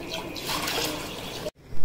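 Strained nannari root juice and jaggery water poured together into one vessel, a steady close splashing pour that runs for about a second and a half, then cuts off abruptly and is followed by a brief thud.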